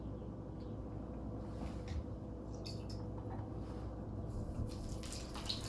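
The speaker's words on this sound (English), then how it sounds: "Drizzle with water." Water drizzled onto clay on a fast-spinning pottery wheel while a large bowl is thrown, making a steady close whirring wash with faint trickles and no talk.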